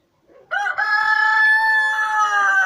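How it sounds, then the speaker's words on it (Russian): A chicken in a farm shed gives one loud, close, drawn-out crowing call lasting about two seconds, with no voices. "Да, курочки."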